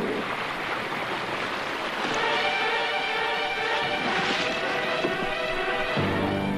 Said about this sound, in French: Écoutez le vent.